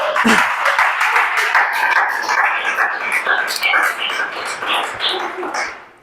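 A church congregation claps in praise during a sermon, with dense, loud applause and some voices running through it for several seconds before it tapers off at the end.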